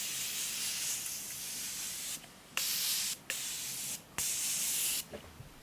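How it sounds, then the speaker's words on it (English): Several quick hissing spritzes of a fine mist of Morphe setting spray onto a face, each a second or so long, separated by brief pauses. "I like to melt all the powders using my Morphe spray."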